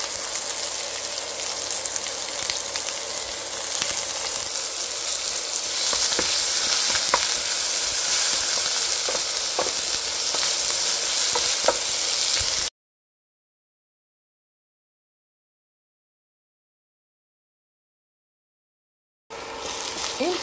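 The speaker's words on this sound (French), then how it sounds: "je vais mettre de côté et faire revenir les oignons" Onions and garlic sautéing in a pan, a dense, steady crackling sizzle close up with a few light clicks, then a long stretch of silence before the frying briefly returns.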